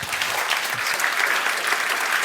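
A lecture audience applauds after Timothy Snyder's talk on Belarus, giving a dense, even wash of clapping that holds steady from start to finish, close and fairly loud.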